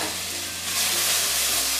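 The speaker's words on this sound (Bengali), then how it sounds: "মশলাটা একটু নেড়ে চেড়ে নিচ্ছি" Cumin paste, ginger paste and a pinch of salt stirred and fried in a pan, giving a steady loud sizzle and hiss that swells slightly partway through, with no talking.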